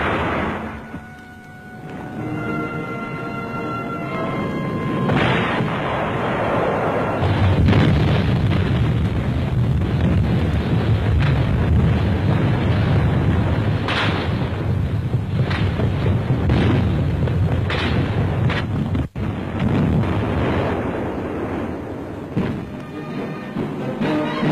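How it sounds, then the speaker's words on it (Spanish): Hand grenades thrown during Spanish Legion training exercises: a sustained, loud roar of blasts and rumbling with several sharper bursts, heard with no speech. "el lanzamiento de bombas de mano"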